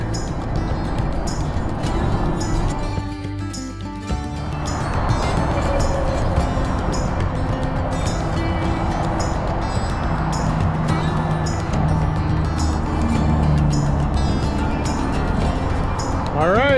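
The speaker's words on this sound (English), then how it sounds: "So we're gonna walk up between the lanes of the interstate here a little bit. It's pretty loud" Loud, continuous traffic roars on an interstate highway near a Tennessee River bridge, with a steady wash of passing vehicles heard at close range and a brief lull partway through.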